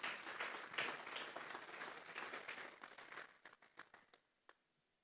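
A church congregation breaks into loud applause for the Lord during a Spanish-language sermon; the dense clapping holds for a few seconds, then thins into scattered last claps and fades to near silence.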